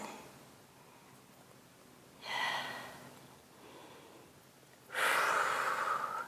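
Heavy, effortful breathing during a Pilates core exercise on a mat, with two strong breathy exhales around the middle and near the end of a quiet stretch, close to the mic and without speech.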